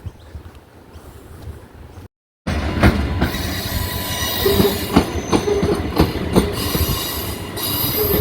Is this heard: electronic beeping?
no